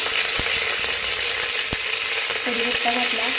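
Curry leaves hit hot oil already seasoned with mustard seeds and a ground ginger-garlic paste, giving a steady broadband sizzle with a few sharp crackles and pops throughout, close and fairly loud.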